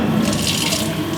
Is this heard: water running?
yes